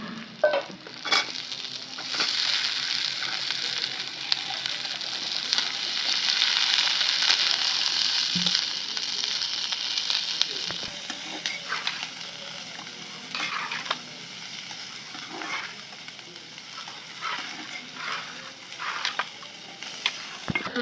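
Onions and garlic fry in a pan for mash, giving a continuous close sizzle with occasional scraping stir strokes and no talking.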